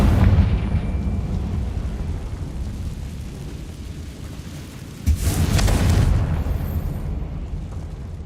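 Confringo blasting spell from Hogwarts Legacy: a loud, deep explosive boom opens, settles into a sustained rumble, then a second heavy blast bursts in about five seconds later and rolls on with dense low roar.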